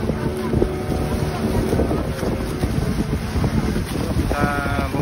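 A motorboat engine drones steadily over rushing sea water and wind buffeting the microphone during a boat race off Lovina, Bali, with a higher engine whine rising near the end.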